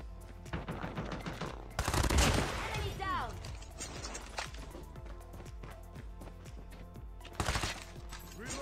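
Gunfire in the mobile shooter game Call of Duty Mobile: quiet, distant bursts of rapid shots and single cracks, with mechanical clicks between them. A voice talks intermittently over the action.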